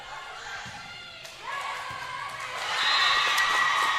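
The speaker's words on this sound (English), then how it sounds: "The crowd's into it now." A crowd at a high school volleyball match cheers and shouts, the noise swelling louder toward the end, with a thud early on.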